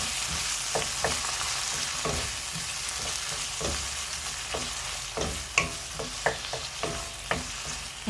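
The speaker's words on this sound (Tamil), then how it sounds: "தக்காளி நல்லா வதங்கட்டும்" Tomatoes sauté for a tomato buttermilk curry in a pan that sizzles steadily, while a spoon stirs and taps with repeated clinks that grow sharper toward the end. No voices are heard.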